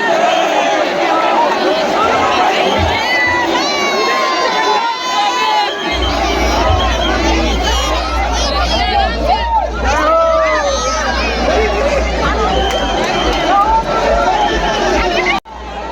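A dense crowd of devotees at the Jagannath Rath Yatra in Udaipur fills the city streets with continuous shouting, cheering and babble, while a low steady rumble joins partway through and a few voices rise above the din.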